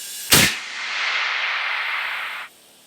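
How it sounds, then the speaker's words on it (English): A tire bead-seating air cannon fires a single sharp, loud blast of air, followed by a sustained rushing hiss that runs for about two seconds before cutting off. "We're gonna have to do the big tire cannon."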